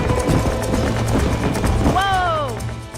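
Horse hooves clip-clop in a steady rhythm in Red Dead Redemption, close and clear over a low background, and a descending horse whinny rings out near the end.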